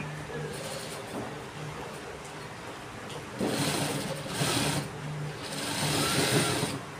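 Sewing machine stitching a gents' shirt collar, a steady close whirring run that grows louder in two later bursts, with no talking.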